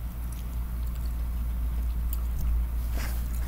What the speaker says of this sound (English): We're supposed to be chewing for 30 times.